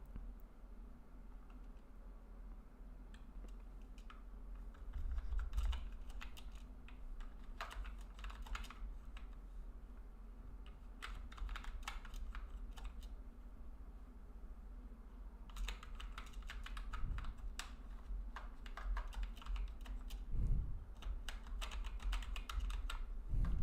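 Fast, irregular clatter of typing on a computer keyboard comes in bursts with short pauses, close and fairly quiet over a low steady hum.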